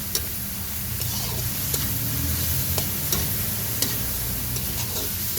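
Tomatoes frying in a pan for a bittergourd dish, a steady close sizzle with scraping stirs and occasional utensil taps throughout.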